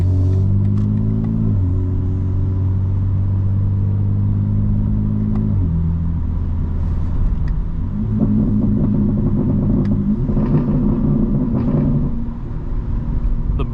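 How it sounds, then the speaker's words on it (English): Exhaust burble from a fully modified 2025 BMW M4 Competition xDrive, a loud steady low rumble with shifting engine tones while cruising, rising and settling throughout with no talk over it. "The burble just sounds so good"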